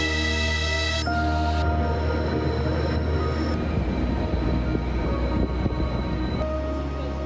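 A train runs along the railway tracks, its heavy steady rumble continuous and near, with metallic squeals and tonal whines rising over the wheel noise throughout.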